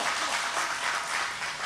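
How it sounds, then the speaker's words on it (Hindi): A hall audience at a poetry recital gives steady, dense applause, many hands clapping together at a strong, even level throughout. "एक बार सब तालियां बजाओ मन से भाई"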